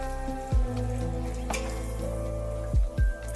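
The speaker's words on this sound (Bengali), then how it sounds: "এইভাবেই কিন্তু সমস্ত লুচি আস্তে আস্তে করে ভেজে নিতে হবে মানে তালের লুচি" Palm fruit luchi deep frying in hot oil, a steady close sizzle and bubbling running throughout, with a few sharp metallic clinks of a utensil against the pan breaking through.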